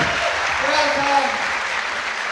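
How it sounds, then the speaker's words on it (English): Broad roar of a crowd cheering and applauding at a bouldering competition grand final, a dense steady wash of cheers and claps with a commentator's voice faintly over it. "The crowd goes wild"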